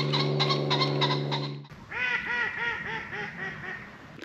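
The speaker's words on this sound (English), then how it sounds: "are those ducks laughing at me?" A steady tone gives way to a run of repeated duck quacks, loud and close, coming in a rough rhythm for several seconds.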